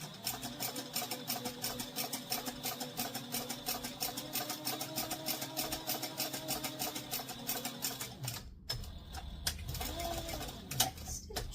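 Sewing machine back stitching on cotton, a rapid even needle clatter running steadily close up, then stopping briefly before a few slower stitches resume, with a faint voice in the background.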